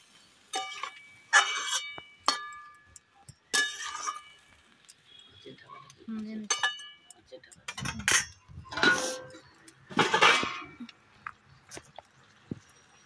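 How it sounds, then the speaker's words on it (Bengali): Salt stirred into a pot of mixed winter vegetable curry: a spoon clinks and scrapes against the pot in short, separate bursts, with a voice speaking in between. "এবার আমি এর মধ্যে দিয়ে দেব স্বাদ মতো লবণ। লবণটা স্বাদ মতো দিয়ে দেবো এর মধ্যে। দিয়ে আবারও এটাকে ভালোভাবে মিক্স করে নেব।"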